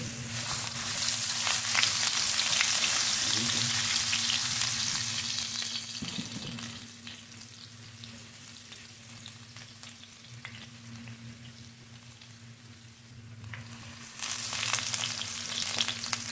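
Striped ginger frying in hot olive oil, a close, steady crackling sizzle that fades somewhat midway and swells again near the end.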